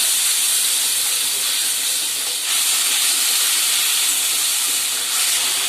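Spice paste loosened with a splash of water sizzles in a hot pan while making a rohu fish curry, a loud continuous hiss with a brief dip partway through.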